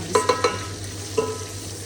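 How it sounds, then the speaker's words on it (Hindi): Okra and onions sizzle softly in a pan while a spatula stirs, giving a few quick scraping knocks early on and one more a moment later. "तो यहाँ पे देखें भिंडी फ्राई हो रही है"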